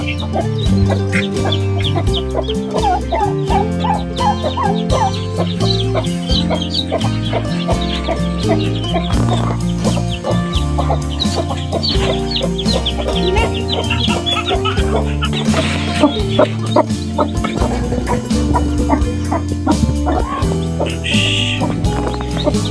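Newly hatched chicks and grown chickens from red eggs, peeping and clucking without a break throughout, loud and close over a dense, steady background.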